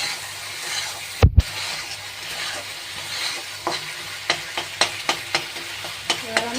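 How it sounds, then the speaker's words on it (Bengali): Spice paste (masala) stir-fried in oil sizzles steadily while a utensil scrapes and taps against the pan in a quick run of sharp strikes, with one loud clatter early on. "ভালো করে মশলাটা আমি কষে দেবো"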